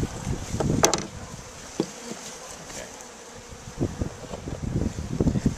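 A honey bee colony being hived buzzes in a steady, close drone, with rustling, tapping and handling noises scattered through it and no talk.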